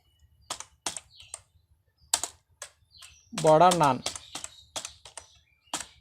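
Keyboard keys tapped in short bursts while HTML and CSS code is written, clicks spread across the moment with a brief voice speaking in the middle.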